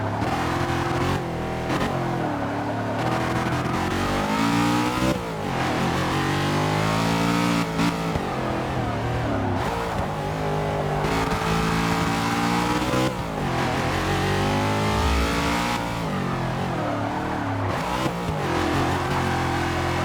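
A race car engine in the Forza 6 racing game revs hard and repeatedly, its pitch climbing and dropping through gear changes, loud and close with no talk over it.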